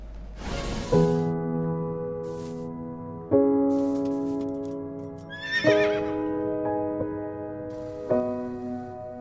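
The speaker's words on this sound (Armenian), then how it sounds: "թե ինչպես են ձիերը փրկում շանը" Horses neighing and whinnying, apparently in a viral scene of horses rescuing a dog, with several loud, long, quavering calls that repeat every couple of seconds, close by and with no talk.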